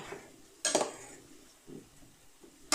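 A spoon scrapes and clinks against a pot while chicken adobo with liver is stirred, giving a few sharp metallic knocks between quieter scraping and a faint sizzle, close by with no talking.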